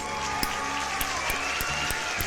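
Applause from a studio audience, a steady wash of clapping filling the whole short stretch at moderate volume, with a few sharper individual claps standing out.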